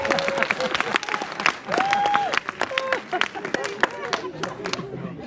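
Audience applause and a standing ovation at a talk: dense, sustained clapping from a large crowd throughout, with voices and chatter mixed in over the ovation.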